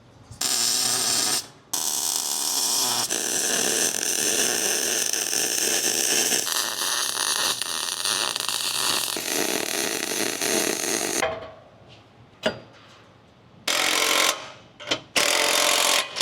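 Welding on the rusty frame of a Jeep Wrangler TJ gives long loud crackling, buzzing bursts with short pauses between beads, close up, ending in a few shorter sputtering bursts.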